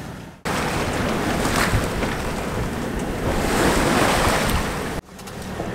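Sailboat tacking along a wild north coast into 20-knot headwinds: loud, continuous rushing wind and breaking waves with heavy wind buffeting on the microphone, steady throughout apart from brief dips.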